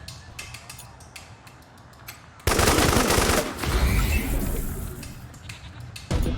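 Automatic gunfire from the video game Wasteland 3 erupts partway through in a loud, dense burst after quieter mechanical ticking, then fades slightly before another burst kicks in at the end.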